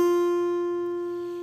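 A single guitar note on the first string rings out clear and sustained, slowly fading over a second and a half.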